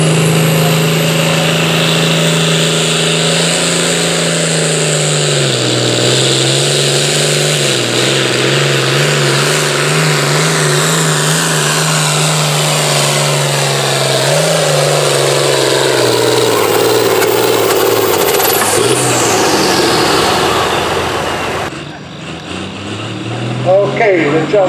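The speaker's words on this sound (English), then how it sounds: "the John Deere is going to move" A John Deere pulling tractor at a tractor and truck pull in Kempton, Pennsylvania, its engine roaring loud and close for about twenty seconds before dropping off, with voices talking over it.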